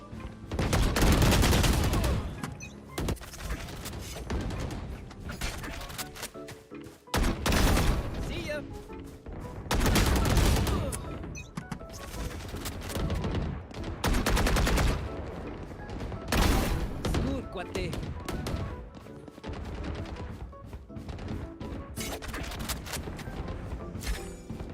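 Gunfire from the tactical shooter Valorant during a VCT Pacific match: loud bursts of rapid shots and heavy impacts come in repeated waves, with quieter gaps and talk in between.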